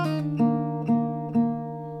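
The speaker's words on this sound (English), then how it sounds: "Next is the C part" Acoustic guitar playing the C part of a song: three evenly spaced strummed chords ringing out clearly and alone, each fresh attack swelling over the sustain of the last.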